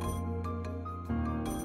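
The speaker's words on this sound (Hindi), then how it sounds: "मुझे लगता परी का फोन है।" A telephone ringtone plays continuously in a melodic electronic ring, moderately loud and alone, in a domestic drama scene.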